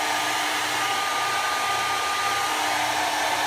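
A hair dryer blows hot air on hair being styled into a bob with a round brush, a loud, steady, unbroken rushing whoosh with a faint whine, close by and with no talking.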